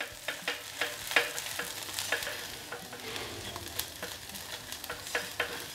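Zunka, a gram-flour dish, sizzles gently while being sautéed in a pan over low heat, punctuated by repeated scraping strokes of a spatula at an uneven rhythm, close and fairly quiet, with no voices.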